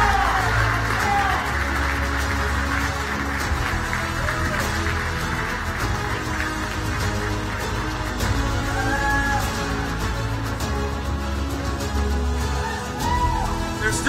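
Sustained audience applause at a documentary awards ceremony in New York, a steady wash of clapping from a large crowd that carries on throughout with faint music or voices underneath.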